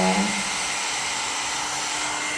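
A hair dryer blows at close range in a steady, loud whoosh with a constant motor whine, running without pause for the whole short stretch.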